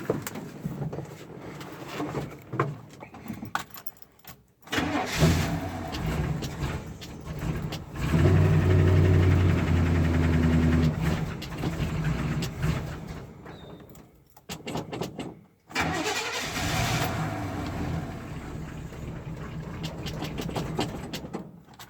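A car engine with a carburettor accelerator pump leaking fuel, cranking in uneven bursts before catching and running, a loud low rumble that rises and drops with short pauses between attempts.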